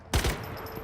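One sharp gunshot from a weapon in the video game Star Citizen cracks close and loud, then a short rumbling tail fades away.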